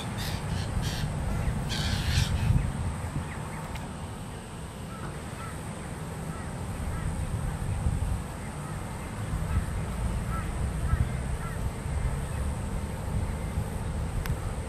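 Young black, white and grey birds calling outdoors, repeated harsh caws over a steady ambient rumble, moderately near, with a faint voice in the background at times.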